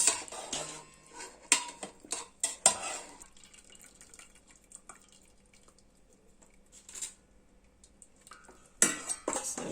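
Boiled chicken lifted out of a pressure cooker with a utensil: sharp metallic clinks and scrapes against the pot in short bursts, with quieter wet drips and stirring between, close by and without talk.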